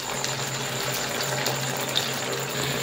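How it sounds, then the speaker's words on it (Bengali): A small amount of water is poured into a chilli chicken curry cooking in a pan, making a steady, close trickling splash that lasts a few seconds with no talking. "তো এইবার সামান্য একটু জল দিয়ে দেব।"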